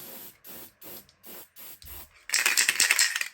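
A spray paint can hisses in a run of short bursts with pauses, then a longer, louder continuous blast at the end, close and alone without talk.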